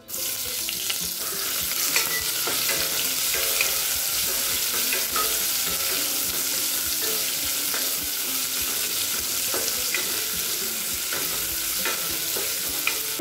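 Long-sliced onion fries in hot oil with asafoetida, dried red chillies and curry leaves for a Tamil tomato kootu, sizzling loudly and steadily while a spoon stirs and scrapes the pan.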